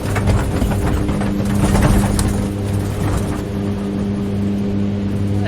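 A Mitsubishi MU-2 twin turboprop in a flight simulator drones steadily on the ground, a constant low engine hum with tonal harmonics holding even and close for the whole stretch.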